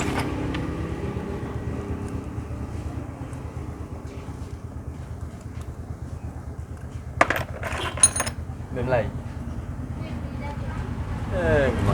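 Exhaust bolts are loosened on a motorcycle engine with a ratcheting hand tool, producing a steady rapid clicking under a continuous hum, with a couple of sharp metallic clinks of a tool or bolt part way through.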